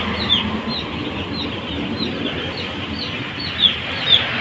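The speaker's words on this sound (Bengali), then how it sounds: "এই যে মুরগির বাচ্চাগুলো সব এখানে 1500 বাচ্চা আছে" Chicks in a poultry farm shed holding about 1500 birds give thin, high peeping chirps scattered throughout, with a few louder calls near the end over a steady background hum.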